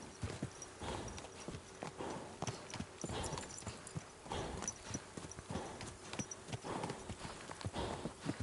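Horse hooves clip-clopping at a steady walking rhythm along a path in the video game Kingdom Come Deliverance 2, close and fairly quiet, with regular soft thuds throughout.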